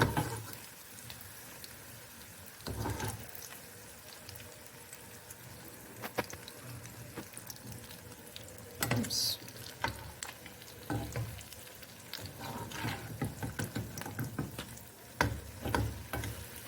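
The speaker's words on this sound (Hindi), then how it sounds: "यहाँ पे मैंने इस अंडे को ऐसे पकाना है" An egg fries in a pan for Chinese rice, giving a quiet, steady sizzle with occasional louder clatters and scrapes from a utensil, heard alone without talk.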